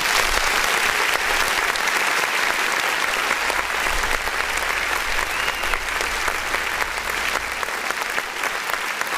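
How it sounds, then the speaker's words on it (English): Loud, sustained applause from a crowd on a music review show, dense and continuous clapping that holds at an even level for the whole stretch with no voices over it. "let me clap again."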